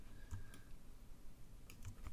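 A few faint, sharp clicks of the left arrow key being pressed on a computer keyboard, scattered in two small bursts near the start and end against a quiet room hiss.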